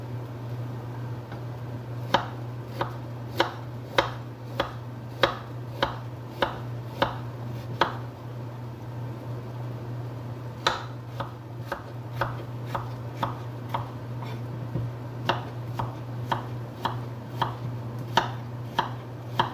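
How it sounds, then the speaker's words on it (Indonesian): A knife chops salad ingredients into crescent-shaped slices for a Saudi fattoush salad, producing evenly spaced, crisp taps on a board over a low steady hum, with a short pause midway. "biasanya kita potong-potong sisinya, dan sisinya berarti kita potong seperti ini, seperti bulan sabit"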